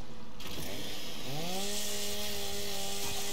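A chainsaw in the video game Gears 5 revs steadily and cuts through pipes. The whine rises in pitch, holds loud and continuous, and no one talks over it.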